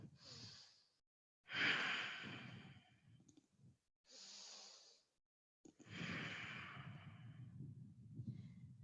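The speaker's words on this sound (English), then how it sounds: "Breathing in and out through the nose only." Slow, deep breaths drawn in and out through the nose during a yoga hold: four close, airy rushes of breath separated by short silent pauses, steady and unhurried.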